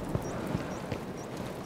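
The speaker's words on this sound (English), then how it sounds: "Oh, I hear footsteps already." Footsteps in a VR shooter game, a few evenly spaced thuds about every 0.4 seconds over steady background noise, with no talk in between.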